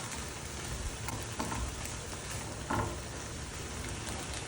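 Mushrooms and onions frying in a pan for a tofu scramble, a steady dense sizzle with occasional stirring scrapes, close and continuous throughout.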